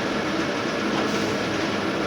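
An AC EMU suburban train pulls out of Sealdah station, a steady broadband rumble of wheels and motors filling the whole stretch at a constant, fairly loud level with no voices.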